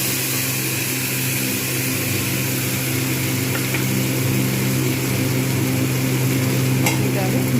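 Mustard-poppy paste going into a hot pan with black cumin over low heat, giving a steady soft sizzle with light stirring against a constant low hum.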